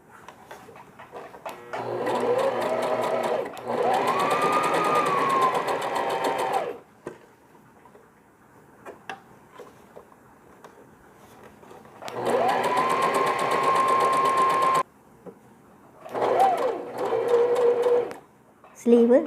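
A sewing machine zigzag stitching a smocking dress runs in several loud bursts of steady whirring, stopping and starting, with quiet gaps between runs.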